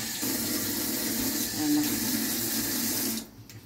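Tap water runs steadily while meat is washed and water is added to a pot for mutton biryani in a home kitchen. It is a close, continuous hiss that stops abruptly just before the end.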